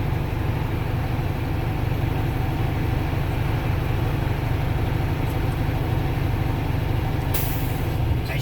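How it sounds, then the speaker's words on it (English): A truck idles with a steady diesel rumble, and near the end its air brake governor lets out a short, sharp burst of air. "Just heard from the loud burst of air"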